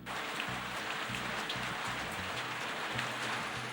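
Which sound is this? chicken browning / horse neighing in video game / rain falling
rain falling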